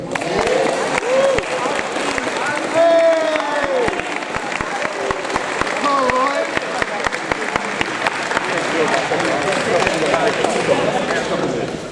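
A crowd applauds at a youth sports club's award ceremony honoring an under-16 girls' player, steady clapping filling the room for several seconds while a few voices talk over it.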